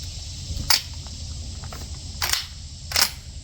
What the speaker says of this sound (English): 5 more rounds of the Monarch from Academy. I'm going to run 5 more rounds through here